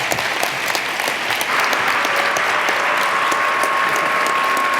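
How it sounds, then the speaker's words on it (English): A church congregation in Denver claps steadily for a round of applause, a dense, even patter of many hands throughout, with a faint tonal hum joining partway and no speech. "And so just another round of applause for them."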